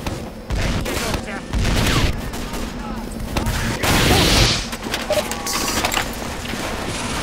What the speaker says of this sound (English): Oh my god, some guy shooting at us